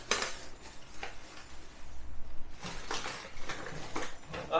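A three-pan, two-lid induction pan set is handled in a tiny apartment, with close metallic clinks, clacks and scrapes of pans and lids knocking together in irregular bursts.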